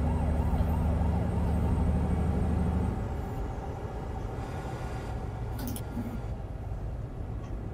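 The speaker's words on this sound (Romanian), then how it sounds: "Mamă, aveam poliția în spate." In Euro Truck Simulator 2 with the ProMods mod, a police siren wails loudly for a few seconds over a Ford truck's rumbling engine, then fades out, leaving the steady drone of the truck.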